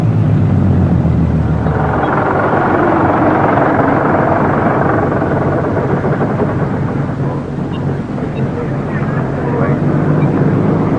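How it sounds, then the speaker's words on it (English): A Spitfire Mark I taxiing toward hangars and parked aircraft, its piston engine giving a loud, steady rumbling drone that holds close and continuous throughout with only a slight dip near the end. "A Mark I taxis in."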